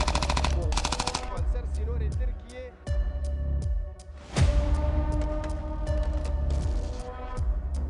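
Rapid gunfire, about 20 rounds, near the White House rattles in quick automatic bursts alongside heavier single shots, loud and continuous throughout the stretch.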